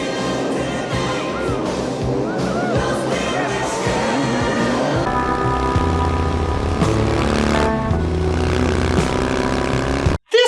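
Motorbikes roar through a chase sequence in the 2008 film Lost Boys: The Tribe, with a steady engine drone layered under loud music that runs nonstop before cutting off abruptly at the end.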